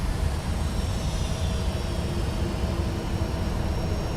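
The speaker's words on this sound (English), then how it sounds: "Reversers are out, nose down gently." A Boeing 757 in X-Plane 11 roars with a broad, steady rush of engine noise as thrust reversers spool up during landing rollout, loud and continuous.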